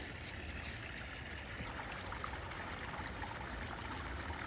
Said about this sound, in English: Little waterfall right there.